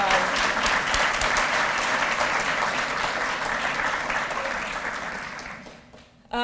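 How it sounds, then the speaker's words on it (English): Applause at an awards ceremony, a dense sustained roar of clapping from a large audience that gradually thins and fades out near the end. "Let's give them one more round of applause."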